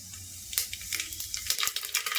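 Mustard and cumin seeds crackle and sizzle in hot oil, with a dense, close spatter of bright pops and a faint stirring scrape, no voices.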